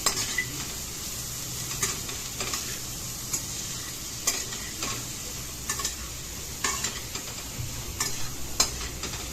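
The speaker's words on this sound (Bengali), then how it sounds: "আমি ঠিক তখনই দিয়ে দিলাম এই যে মাশরুমগুলো। এটা একসাথে খুব ভালোভাবে মিশিয়ে নিতে হবে।" Mushrooms are stirred into melting garlic butter in a pan, with a steady sizzle and frying hiss under repeated scraping utensil strokes and soft clinks, close and continuous throughout.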